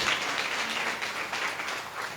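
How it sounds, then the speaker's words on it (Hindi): A church congregation claps together to give thanks to God, a continuous wash of applause at moderate distance lasting a couple of seconds. "ताली बजा के प्रभु धन्यवाद।"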